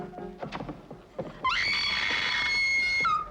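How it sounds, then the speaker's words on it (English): In a 1953 film scene, a woman lets out a loud, sustained, high-pitched scream lasting over a second, after a few scattered knocks and clatters. "Do I hear a lady screaming?"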